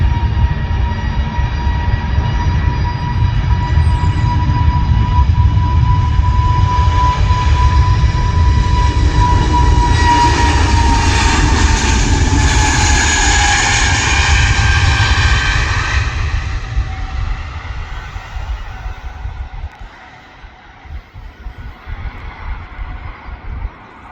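A British Airways jet, a short-hop flight bound for Heathrow, takes off from Manchester Airport, its engines roaring loud and steady with a high whine that bends and fades as it climbs away.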